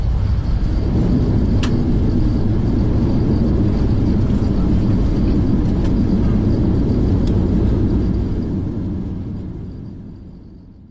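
A German Airbus A400M turboprop transport landing at night in Kabul, heard as a loud, steady broadband roar of engines and airflow that holds for most of the stretch before gradually fading away at the end.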